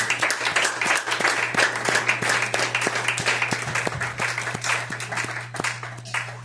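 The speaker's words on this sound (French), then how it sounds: "you clap your hand for Jesus?" A church congregation claps for Jesus at a Sunday service, a lively run of steady, rhythmic handclaps over a low hum, with a few sharp individual claps standing out near the microphone.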